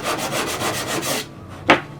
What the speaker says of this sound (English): now you can sand that right down, back and forth